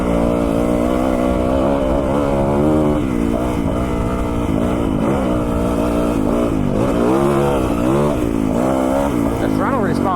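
A 2021 Yamaha YZ450FX dirt bike engine revs and surges while being ridden, its throttle climbing and dropping in repeated bursts of rising pitch, loud and close, with a rider talking over the engine throughout.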